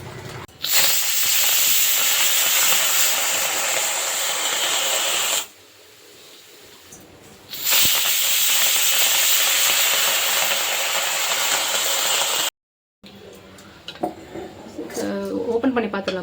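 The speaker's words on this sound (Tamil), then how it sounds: "மூடி போட்டு ஒரு 5லேருந்து 6 விசில் வர வரைக்கும் வெயிட் பண்ணுவோம்." A pressure cooker cooking Sakkarai Pongal whistles loudly and releases steam in a long, harsh, steady hiss, stopping briefly before the sound resumes, with a voice talking over the end.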